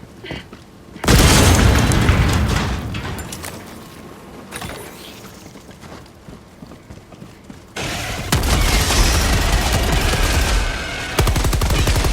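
Heavy explosions in the Helldivers II video game: a loud booming blast followed by a long rumbling tail, then a second powerful detonation and further bursts, with rapid gunfire-like crackle mixed in.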